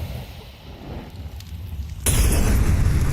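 Flashbang grenades going off in a Counter-Strike esports match at IEM Cologne, a muffled low rumble that bursts into a loud, broad blast about two seconds in and then holds on as sustained noise.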